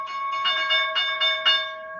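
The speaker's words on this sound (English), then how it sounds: "And there's the bell." Stock market opening bell ringing: a bright, sustained electronic tone pulsing in five or six quick repeated strikes over two seconds, clear and prominent with no talk over it.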